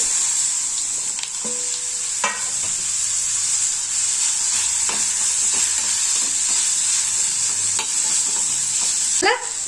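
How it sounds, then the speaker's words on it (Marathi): Guava pieces sizzle steadily in hot oil tempered with mustard seeds, cumin, asafoetida and curry leaves for a sweet-sour guava curry, with a constant close hiss broken by occasional stirring scrapes and a sharper clatter near the end. "थोडासा हिंग आणि कढीपत्ता आणि टाकून घ्यायचे पेरू"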